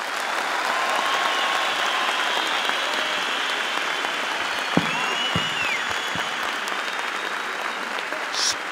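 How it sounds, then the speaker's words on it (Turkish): Steady applause from a seated audience at a motivational seminar, a dense even wash of clapping that holds for the whole stretch, with a few louder isolated claps standing out near the end. "Onu önce bir hak ettiği gibi alkışlayalım."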